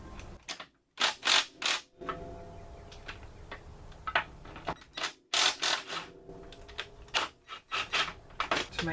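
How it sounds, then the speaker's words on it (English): Ratcheting clicks from a wrench loosening the motor mount bolt on a 1994 Honda Accord wagon, in several quick bursts of sharp ticking with short pauses between, close and fairly quiet, no talking. "I'm just going to come through and loosen the motor mount bolt slightly."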